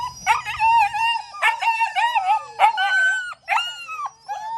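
Several puppies howl together in rising and falling wavering tones, close and loud, with brief pauses between overlapping howls in a yard fenced with light gauge fencing.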